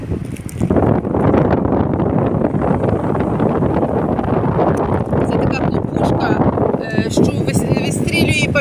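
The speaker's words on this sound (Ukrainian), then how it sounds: "Ой, який вітер, мама мія." Strong wind at the Italian seaside buffets the microphone in a constant loud roar, with people talking underneath.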